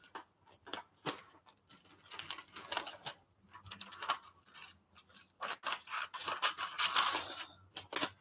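Scissors snip repeatedly through glossy magazine paper, cutting a figure out of a page; close, crisp bursts of cutting with brief pauses and paper rustle, no talking.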